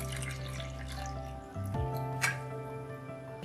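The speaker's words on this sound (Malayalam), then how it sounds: "അരക്കപ്പ് വെള്ളം കൂടെ ഒഴിച്ചു കൊടുക്കാം" Half a cup of water is poured into semolina idli batter mixed with salt and baking soda, a soft, faint splash and drip over a low steady hum.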